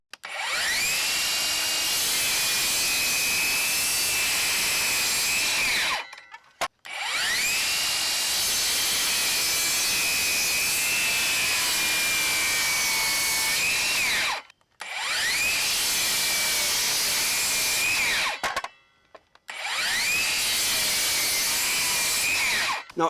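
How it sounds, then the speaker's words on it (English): A RIDGID Octane cordless circular saw with a framing blade rips through moist treated 2x6 lumber in four long, loud cuts, each a sustained high whine with brief pauses between passes. "So now we're going to take a look and see what this saw can do. We got some treated 2x6 right here"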